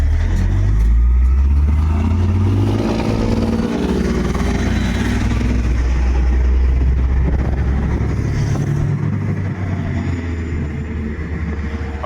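A Toyota Corolla GR engine with turbo and three-tip exhaust revs in sport mode outdoors on a breezy day, a loud, rumbling low drone that swells and eases, with wind noise underneath.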